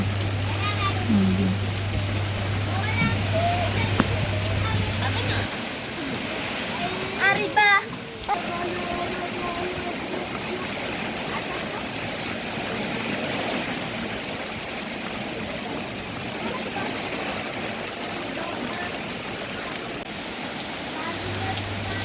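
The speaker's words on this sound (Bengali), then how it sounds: "বৃষ্টি চলে এসেছে বৃষ্টি হচ্ছে অনেক বাতাস হচ্ছে" Steady heavy rain pours down continuously with a broad hiss during a storm, gusty and constant throughout, with a brief muffled voice partway through.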